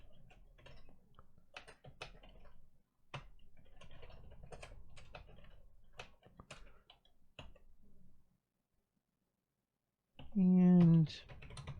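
Rapid clicking on a computer keyboard while a bash script is written, a quiet uneven run of close keystrokes lasting several seconds that stops before a short burst of voice near the end.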